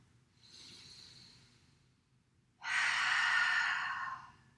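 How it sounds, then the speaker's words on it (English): Deep breathing during a slow-flow breathing exercise: a softer breath drawn in, then a long, loud, airy exhale out through the open mouth, close and alone with no talking. "Open the mouth and exhale."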